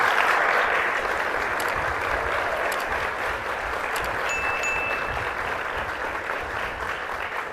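Sustained audience applause filling a hall after a talk, dense and steady throughout with no voices on top.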